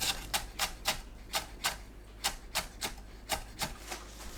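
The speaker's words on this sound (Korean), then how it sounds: "파를 작게 썰어줍니다" Knife chopping green onions on a cutting board in a kitchen, about fourteen crisp, quick taps in an uneven steady rhythm, close and clear with no talk.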